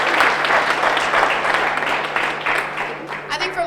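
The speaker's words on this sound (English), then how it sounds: "Let's give them a warm round of applause." An audience at a women-in-leadership question and answer session applauds the panelists, a steady wash of clapping that holds throughout and thins slightly toward the end.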